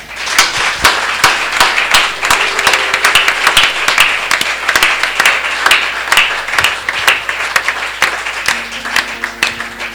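A church congregation applauds during worship, dense rhythmic clapping that stays loud and close from start to finish with no talk over it.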